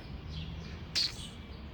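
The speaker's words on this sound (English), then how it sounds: "Looking at the birds." A single bright bird chirp rings out in Zona Rosa, Mexico City, with fainter calls around it over soft outdoor background noise.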